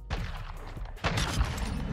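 A sniper rifle fires a no-scope shot in a first-person shooter game, a sharp loud report with echoing tail, followed by a second booming shot amid dense game noise.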